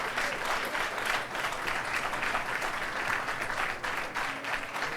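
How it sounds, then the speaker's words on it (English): Steady, dense applause from a crowd at a Harlem African American Day breakfast event, continuous and fairly loud throughout with a few faint voices underneath. "Give Keith a big round of applause."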